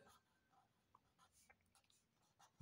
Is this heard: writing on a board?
yes